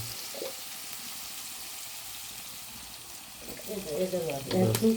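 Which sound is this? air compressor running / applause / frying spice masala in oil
frying spice masala in oil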